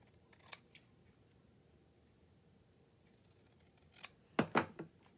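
Scissors snip white paper in a few quiet cuts, a faint couple early on, then a quick cluster of three or four crisp, close snips near the end.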